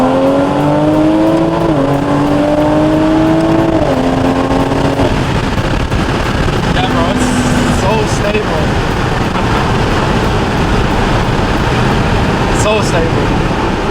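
A big-turbo Toyota Supra pulls hard through the gears, its engine note climbing steadily and dropping sharply at two quick upshifts before it settles into a loud, sustained roar with road noise.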